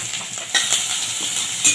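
Sliced onions hit hot mustard oil in a wok and set off a continuous close sizzle, with a few sharp spits and light clinks of a utensil stirring.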